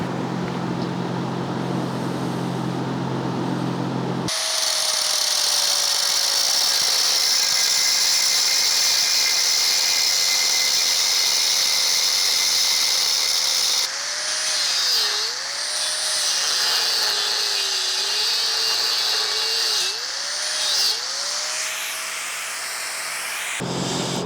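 Metal cutting tool working on steel pieces for a floating stair build, a loud, steady high-pitched grinding whine that starts abruptly and runs for about twenty seconds with brief pitch dips, with no talking.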